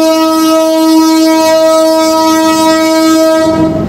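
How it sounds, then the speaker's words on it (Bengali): A train stands at Chittagong railway station and gives off a loud, steady, tonal drone like a sustained horn or engine note for nearly four seconds, close and unbroken, before it cuts off abruptly. "সবার নামতেছে 20 মিনিট সময় চট্টগ্রাম রেল স্টেশনে অবস্থান করবে ট্রেন আমাদের"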